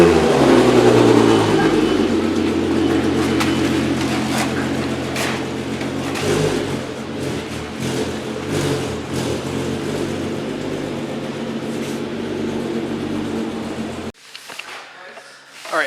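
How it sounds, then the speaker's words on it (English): A 2004 VW MK4 Golf R32 engine revs loudly at a cold start, a strong sustained drone that eases slightly midway and cuts off abruptly near the end, leaving faint clatter. "But we'll get a cold start as they roll it out."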